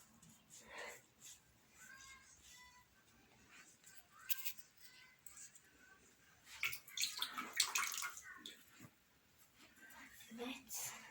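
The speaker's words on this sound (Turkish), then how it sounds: "Suyunu almak için arkadaşlar süngerle bastıracağız" Wet recycled paper pulp in a frame is pressed with a sponge to squeeze out water, producing soft, close squelches and wet dabbing bursts, with quiet speech heard between them.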